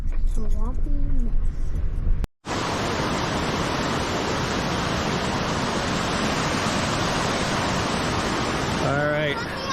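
A waterfall rushes in a steady, close, loud roar beside swampy ground, with voices heard briefly before it and again near the end.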